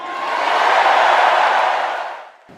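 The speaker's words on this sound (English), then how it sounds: "Biden received loud cheers for that" A large crowd at the Democratic convention roars with cheers after Joe Biden speaks, a loud, sustained swell of voices that peaks and then fades out within a few seconds.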